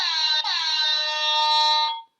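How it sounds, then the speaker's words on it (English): A loud, motion-activated sonic alarm mounted on a deer feeder pole gives one sustained, piercing electronic tone with bright harmonics, briefly dipping near the start, then cutting off after about two seconds. "these sonic alarms are extremely loud and should scare away a deer"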